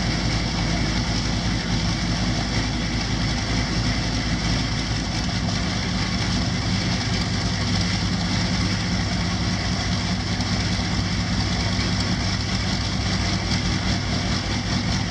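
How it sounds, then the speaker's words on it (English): A Bristol Hercules 14-cylinder two-row radial aircraft engine from the late 1930s runs steadily throughout, a loud, continuous low rumble with a dense rough roar and no pauses or voices. "the demonstration of the Bristol Hercules, a legendary British aircraft engine"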